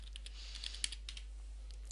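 Faint, light clicks of typing on a computer keyboard come in an irregular patter, with one sharper keystroke, over a steady low electrical hum.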